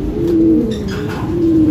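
Racing pigeons arriving at a loft after a derby race, giving close, loud, repeated throaty coos in a steady low rolling rhythm.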